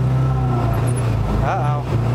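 Engine of a shorty VW bus, a restored wheelie machine, droning loud and steady with strong low hum, pushed near full throttle for about two seconds, with a brief rising whine in the middle.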